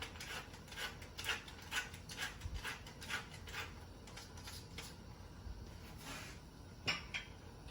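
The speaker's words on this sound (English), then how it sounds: "Going to give that a good stir." Chili stirred in a cooking pot with a spoon, repeated scraping and clinking strokes in an uneven rhythm, fairly quiet and close, with no voices.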